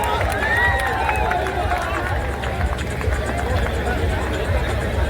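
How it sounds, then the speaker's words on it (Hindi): Audience at a Holi kavi sammelan in Prayagraj applauding to welcome poet Ramesh Muskan, a dense, loud and continuous patter of clapping mixed with crowd murmur. "तो जोरदार तालियों से स्वागत करिए रमेश मुस्कान जी"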